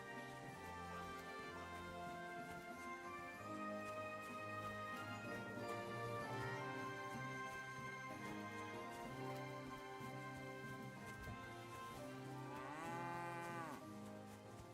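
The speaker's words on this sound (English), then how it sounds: "I heard a cow." A cow in the medieval video game Kingdom Come: Deliverance II gives several long, drawn-out moos one after another, quiet and alone with no talk over them.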